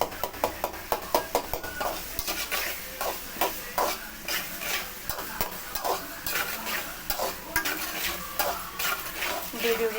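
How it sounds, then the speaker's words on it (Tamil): Onions for squid thokku sautéing in a pan while being stirred, with a soft continuous sizzle broken by frequent rhythmic scrapes and knocks of a spoon against the metal. "இப்படி கிளறி விட்டிங்கன்னா தான் நல்லா வதங்கும்"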